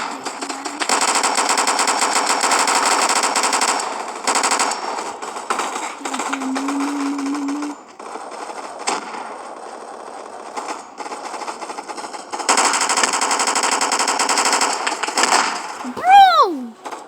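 An Owen submachine gun fires in a shooting video game, loud sustained automatic bursts rattling for several seconds at a time with short pauses between volleys.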